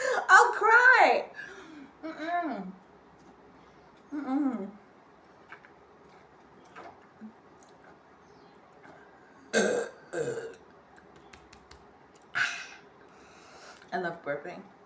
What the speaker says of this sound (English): I love burping.